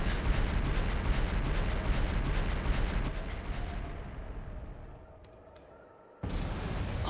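Sniper fire in the game Trails of Cold Steel: a loud, sustained blast and rumble that fades over several seconds, then a sharp burst of noise cuts in near the end.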